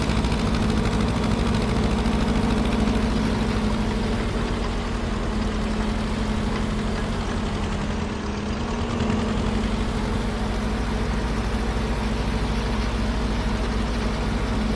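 An old tractor engine running in Farming Simulator 25 keeps up a steady, loud low rumble with a constant drone for the whole stretch, unchanging apart from a slight dip midway, and no voices.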